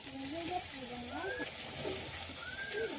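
Red amaranth greens from the garden hiss and sizzle in a hot wok, a steady soft frying sound with a voice talking over it.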